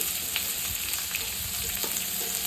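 Bottle gourd peels fry in hot mustard oil, giving a dense, steady sizzle with small pops and light stirring scrapes, loud and close.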